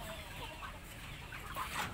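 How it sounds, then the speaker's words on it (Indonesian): Young Indo Gigante chickens cluck quietly, with soft scattered calls over low, steady farmyard background noise. "Itu ayam indo gigante ori usia remaja."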